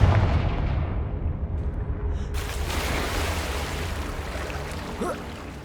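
A heavy blast from the Confringo spell in Hogwarts Legacy booms up close, then falls away into a long, dense rumble and a fading roar, with no talking over it.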